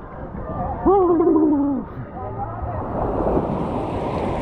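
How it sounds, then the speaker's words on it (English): Surf washes onto a beach in the US Virgin Islands at sundown, a broad, steady rushing that swells and builds after a voice speaks briefly at the start. "The waves"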